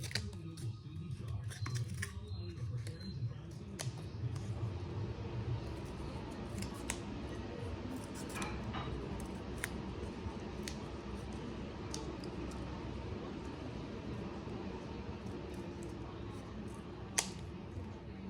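Scissors snip two circles out of cardboard, a continuous close crunching and cutting texture at low level that runs throughout, with a few sharper clicks along the way.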